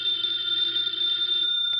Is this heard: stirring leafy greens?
no